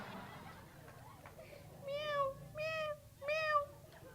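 A person imitates a tomcat's meow on stage at a Navratri festival contest, giving three drawn-out, nasal, cat-like wails in a row after a quiet moment of murmuring crowd.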